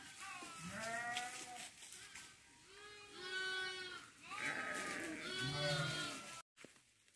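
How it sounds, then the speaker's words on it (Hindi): Himalayan mountain sheep and their lambs bleating in a shepherds' flock, several wavering calls overlapping one after another at close to moderate distance, fairly quiet, with no talk. "इस टाइम भेड़ चिल्ला रहे हैं और बच्चे चिल्ला रहे हैं ना"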